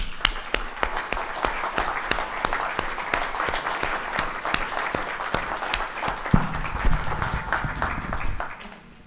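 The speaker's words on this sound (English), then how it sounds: "Let's give them a round of applause for their amazing work" An audience at the SBC 2023 conference opening claps in unison, sharp rhythmic beats under a wash of scattered clapping that swells briefly near the end, then fades out.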